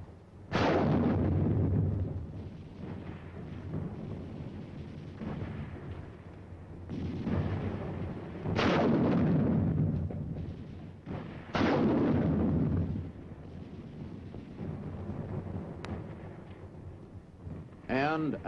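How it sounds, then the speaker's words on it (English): Korean War combat with an automatic rifle and a 3.5-inch bazooka firing on defensive positions, heard as several loud booming bursts with rumbling tails spaced across the stretch under a narrator's voice. "An automatic rifleman spots a target of opportunity and opens fire."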